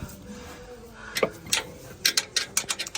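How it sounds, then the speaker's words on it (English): Torque wrench tightening shock mount bolts on a Toyota 4Runner during a suspension lift, a soft metallic clunk followed by a run of quick ratcheting clicks close by. "I am expertly torquing these. Expertly torquing 35 the 35 foot-pounds on the top."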